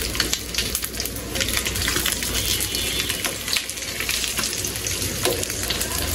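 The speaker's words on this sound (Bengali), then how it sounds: "মাছটা ভাজা হয়ে গেছে প্রায়" Koi fish fry in hot oil in a loud, dense, continuous close sizzle with crackling spits and occasional pops throughout, heard alone without talk.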